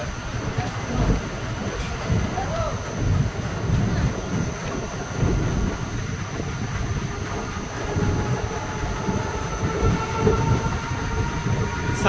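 Maa Tara Express pulling out of Sainthia station, a continuous loud rumble of rolling coaches with faint rhythmic wheel clatter, no talk.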